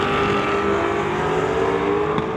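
A Mustang drag car on a qualifying run at a limited street drag event, its engine holding a loud, steady high-revving drone with a sharp tonal whine, close and unbroken, with no voices.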